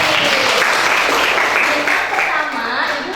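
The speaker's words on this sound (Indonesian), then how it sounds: "tepuk tangan untuk Resti" Classroom clapping for a student named Resti in a university teaching-practice lesson, a brief, dense burst of many hands, loud and close, with young voices blended into the noise.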